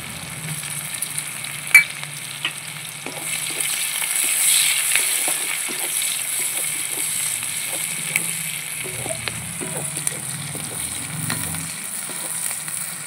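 Seven cloves of crushed garlic sizzle in hot oil in a pan. A steady fry runs throughout, with occasional stirring clinks and small pops, and no talking.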